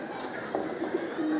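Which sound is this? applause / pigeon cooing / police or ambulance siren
pigeon cooing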